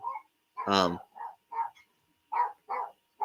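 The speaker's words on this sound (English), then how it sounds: "if you hear a noise in the background, it's just my dog barking" A dog barks a few times in short, sharp bursts, fairly close by, with brief gaps between barks.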